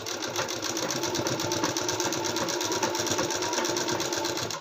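A sewing machine stitches a blouse front panel, running steadily and close at an even buzzing rhythm for the whole stretch, with no voices over it.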